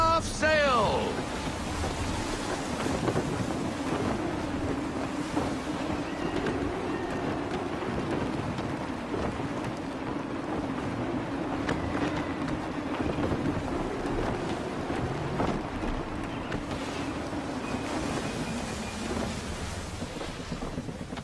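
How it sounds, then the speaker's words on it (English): Gusty wind at sea in Assassin's Creed 3 roars steadily under rumbling, storm-like noise and rushing water around a sailing ship, continuous and loud for the whole stretch, with occasional voices underneath. "Wind looks to be shifting. Stay alert, Connor. Gusty winds can be difficult to manage."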